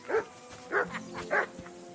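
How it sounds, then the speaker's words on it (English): A dog barks three times in quick, well-spaced bursts, close and loud, with no one speaking over it. "Call that dog, Henry."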